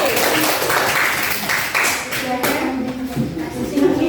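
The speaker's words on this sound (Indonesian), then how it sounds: "Nah, tepuk tangan untuk kelompok satu." Students clap for a group in a classroom, steady applause mixed with chatter and voices throughout, fairly loud and close.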